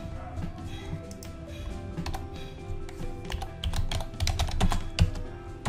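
Rapid clicking of keys as a command is typed on a computer keyboard, irregular close taps in quick bursts over a faint background hum.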